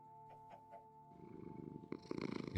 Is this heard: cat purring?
yes